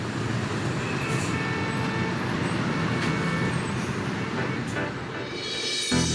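Steady roar of road traffic with cars and heavier vehicles passing, continuous and fairly loud, a dull thump near the end.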